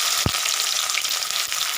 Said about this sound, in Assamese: পিঁয়াজখিনি ৰঙচুৱা বৰণ কৰালৈকে এনেকৈ ভাজি থাকিব।